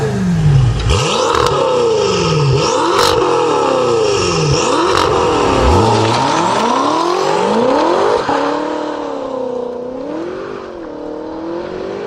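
A BMW F10 M5 with an Armytrix Valvetronic exhaust, valves open, revs and accelerates loudly and close up. Repeated rising and falling engine swells and crackles give way to a steadier, softer drone near the end.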